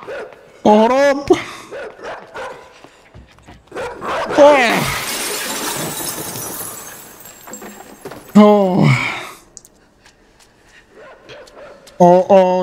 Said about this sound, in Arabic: الكلب جاي